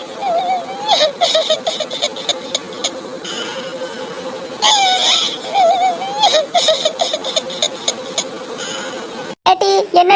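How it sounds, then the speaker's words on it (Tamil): Wavering, high-pitched crying voices rise and fall in repeated sobbing bursts, fairly loud and close, with short pauses between them. "என்னட்டி இப்ப அழுகுற சத்தம் கேக்குது"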